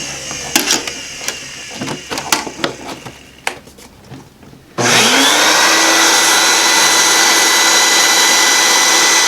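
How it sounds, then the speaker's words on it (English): Several clicks and knocks of handling, then a vacuum cleaner switches on in suction mode to clean a car air filter and roars steadily and loudly up close for the rest of the clip. "Now we'll switch it back over to the vacuum mode."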